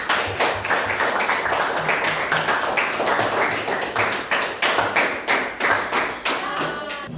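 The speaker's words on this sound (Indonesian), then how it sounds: "Boleh tepuk tangan dulu untuk kelompok Nadine" Students in a junior high classroom clap for a presenting group, a near, fairly sparse patter of individual claps with distinct sharp hits and uneven rhythm, no talking over it.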